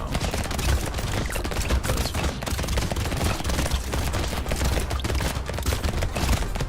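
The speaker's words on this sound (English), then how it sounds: "The SMG seems to be doing some good work." Dense, nonstop SMG gunfire in the video game Brotato, rapid overlapping shots forming a loud continuous rattle with no pauses.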